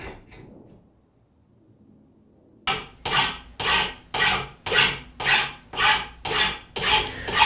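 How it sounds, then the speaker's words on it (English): A hand file is pushed in rhythmic rasping strokes across the cut end of a short rebar section. There is a brief quiet pause, then about nine evenly spaced, close, harsh scraping strokes. "Then I'll flatten the top with my file."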